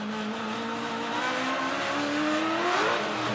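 A roughly 650-horsepower Touring Car Masters race car engine drones loudly and steadily at Winton, its pitch rising and shifting as it revs hard, with a dense roar of surrounding track noise.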